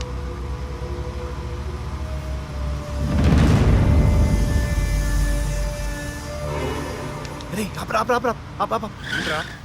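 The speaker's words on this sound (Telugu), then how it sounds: "ఓపెన్ చేస్తే ఒక కారు అలా వెళ్తుంది" A car in a film scene drives past with a rising engine swell and a brief tire skid in the middle, followed by people talking.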